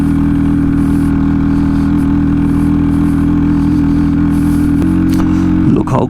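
A Hero XPulse 230 motorcycle climbing uphill toward Tanglang La on the Delhi-Ladakh route, its engine droning steadily and loudly up close, with a brief clatter near the end.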